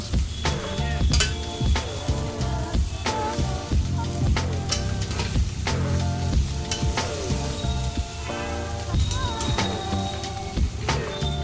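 Cooked rice is stirred into vegetables in a hot pan for healthy fried rice, with a steady loud sizzle and frequent clinks and scrapes of the spatula against the pan, close up and continuous.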